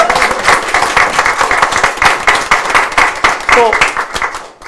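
A crowd at a presidential campaign event applauds in loud, uneven bursts, with clapping mixed under a voice speaking close by.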